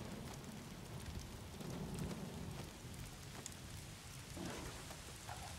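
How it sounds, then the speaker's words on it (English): Heavy rain pours steadily in the video game Days Gone, a dense hiss of drops with a low rolling thunder swell partway through, fairly quiet and with no voices. "rain's getting heavier"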